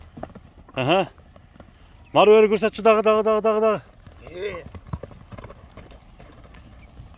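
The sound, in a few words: grey horse hooves clip-clopping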